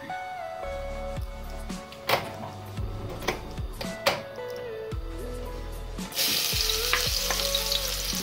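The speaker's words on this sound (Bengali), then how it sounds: "তেলটা গরম হয়ে গেছে, এখন আমি রসুনটা দিলেই আগে" Garlic and ginger fry in hot oil in a pan, giving a crackling sizzle with light stirring knocks, set against steady tonal background tones. The sizzle swells suddenly into a louder, brighter hiss near the end.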